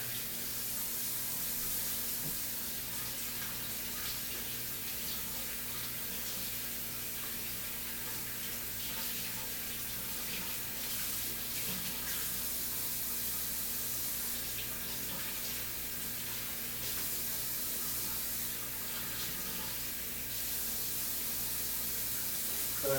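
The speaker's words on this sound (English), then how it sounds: "I'm just going to run them under cool water." Steady running tap water pours continuously into a sink, a constant broad splashing hiss with no talking.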